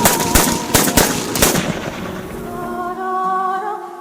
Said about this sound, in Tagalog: Rinig mo ang bawat putukan.